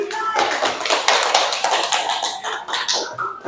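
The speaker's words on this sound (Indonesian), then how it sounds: "Tepuk tangan dulu." A classroom of students claps together, a dense burst of quick overlapping claps lasting a few seconds before tapering off.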